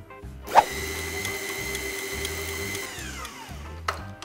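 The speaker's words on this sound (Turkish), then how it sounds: "Bosch Optimum mutfak makinesinin haznesini yerine takıyorum." Bosch Optimum stand mixer running to mix yeast and liquid for a milky bulgur bread dough: a steady, loud motor whir with a faint click at start-up, lasting about two and a half seconds before winding down, with a brief knock near the end.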